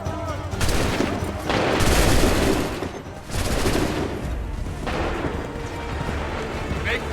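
Soldiers fire musket volleys in Assassin's Creed III: several loud, crackling fusillades burst out one after another with short gaps, while shouted commands sound among them.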